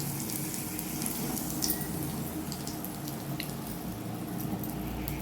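Sizzling hot phoron tempering poured into freshly cooked masoor dal with bottle gourd gives a dense, continuous close hiss and bubbling with faint clinks, no voices.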